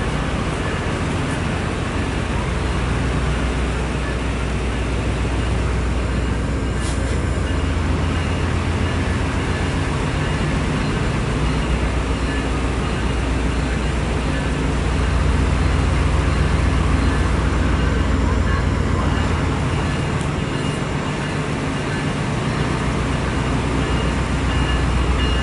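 An Amtrak passenger train passing by, a loud continuous rumble and roar of rolling wheels that stays steady for the whole stretch, with no voices heard.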